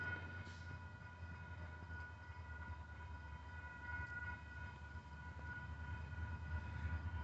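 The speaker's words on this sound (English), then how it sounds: "we got a southbound UP train coming" A southbound Union Pacific intermodal freight train with several locomotives passes at a distance as a low, continuous rumble with steady tonal hums. It builds slightly toward the end, with no voices.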